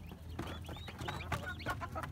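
Backyard native and Rhode Island Red chickens cluck and chatter continuously, several birds close by, with a steady low hum underneath.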